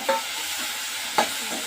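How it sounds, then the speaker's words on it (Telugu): Tomato pieces frying in a pan over a low flame for veg pasta, a steady close sizzle with two brief utensil clinks, no talking. "లో ఫ్లేమ్లో పెట్టి ఫ్రై చేయాలండి."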